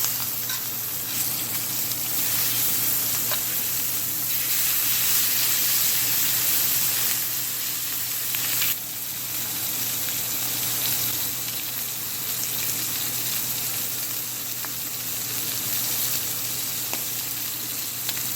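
Butter-aged ribeye steak searing for a crust, a loud, steady hissing sizzle that runs almost unbroken with a brief dip midway, no voices.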